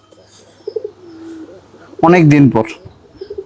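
Pet pigeons released onto bare ground give soft, low cooing calls, a few brief murmurs early and then a louder burst, heard up close amid someone talking.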